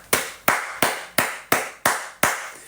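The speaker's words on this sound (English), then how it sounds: "You need a round of applause." Sarcastic hand clapping by one person, seven sharp, evenly spaced claps at a steady slow rhythm, close and alone with no talk.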